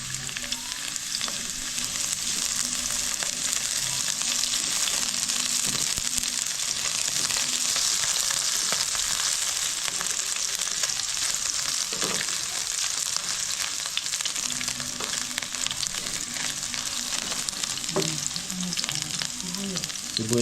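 Garlic sautéing in hot cooking oil for spaghetti sauce, a loud unbroken hiss and crackle of sizzling held steady throughout, with occasional faint scrapes of stirring.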